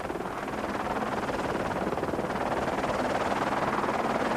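Helicopter flying over Joubert's Pass while following rally cars climbing the mountain road, a dense continuous rotor and engine roar, fairly close and steady, with wind buffeting.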